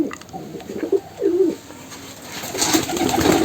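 Pigeons coo at a pigeon farm, a few low throaty coos rising and falling in short phrases, fairly close, over a noisy hiss of background activity that grows louder toward the end.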